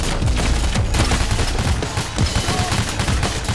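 Rapid machine gun bursts in the heist shooter Payday: The Heist, dense overlapping gunfire with sharp repeated cracks throughout, loud and close.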